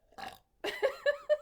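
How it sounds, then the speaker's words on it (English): A single drawn-out burp from a host on a casual live-streamed show, close and fairly quiet, breaking into several gurgling pulses with short gaps between them. "I'm gonna burp."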